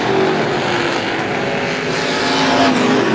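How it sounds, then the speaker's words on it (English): Strictly Stock cars race at Star Speedway with a loud, continuous engine roar. The pitch rises and falls as they pass close by. "Good hard racing up front in the Woody's Auto Strictly Stocks."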